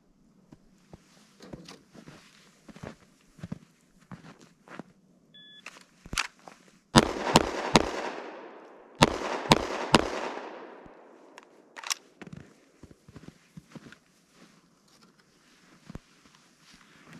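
Pistol shots fired from the draw during an FBI-style timed qualification drill: a timer beep, then two quick clusters of sharp, nearby reports, followed by scattered handling noises and footsteps.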